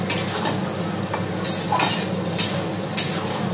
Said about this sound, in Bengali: আমি একটু আবার নেড়ে দেব